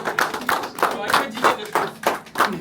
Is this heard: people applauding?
yes